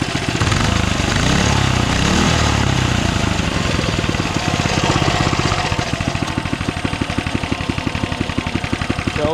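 A small Coleman mini bike engine runs close by with a loud, rapid, uneven putter and rattle; the bike has a bad wheel bearing and no kill switch.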